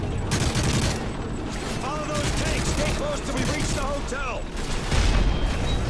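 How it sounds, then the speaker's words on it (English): Bursts of gunfire crackle through a Call of Duty: Modern Warfare 3 firefight, dense and continuous with booming impacts, while a player's voice talks over the action throughout. "Oh god, I'm getting shot at."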